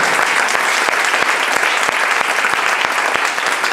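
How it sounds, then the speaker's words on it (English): Dense, continuous applause from a church congregation during a service at a cathedral in Lomé, Togo, a loud steady wash of many hands clapping together with no pauses. "If you are clapping, clap for Jesus."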